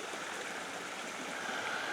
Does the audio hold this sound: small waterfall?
yes